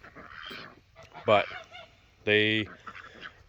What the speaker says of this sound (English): So we got 1 pecking duck and 1 of these brown ducks.